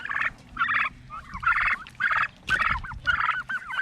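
Turkeys on a small farm gobbling in repeated rapid bursts, close and loud, separated by brief pauses.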